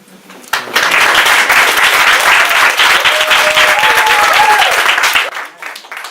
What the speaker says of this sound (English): So once again, a round of applause for Daromie Despinosse and Madeline McCray.